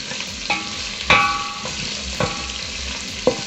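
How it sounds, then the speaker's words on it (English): Beef pieces fry in oil for pilau with a steady close sizzle, broken by a few metallic clinks and scrapes from stirring in the pan. "I let it fry a little bit with the oil."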